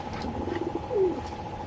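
A pair of pigeons, a jet-black Jak male and a female, gives one short soft coo about midway through, over low background hum and faint rustling.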